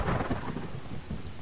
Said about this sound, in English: Whoa, did you see that lightning bolt?